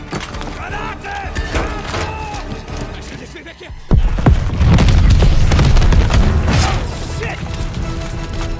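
A grenade explodes in the Call of Duty: Vanguard video game, a sudden loud boom midway followed by rumbling debris and clatter, after a stretch of shouted voices and gunfire.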